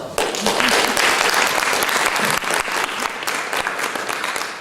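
An audience at a college board of trustees candidate forum breaks into sustained applause, a full, even wash of many hands clapping close by with no voices over it.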